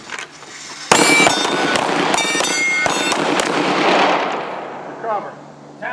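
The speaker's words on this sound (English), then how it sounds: "draw, move your body, get your gun on target, make a hit on the" Handgun shots at a tactical shooting drill, heard as a sharp opening crack followed by a dense rapid flurry of overlapping shots from several shooters that rings out and fades, with a voice briefly heard afterward.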